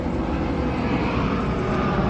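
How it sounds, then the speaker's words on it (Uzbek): Airplanes roar steadily overhead near a family hotel in the UAE, a loud continuous broadband engine rumble with no breaks and no talking. "Samolyotlar."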